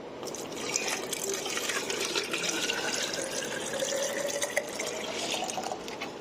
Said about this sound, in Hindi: अब मैं क्या करूँगी, इसमें मैं डाल दूँगी पानी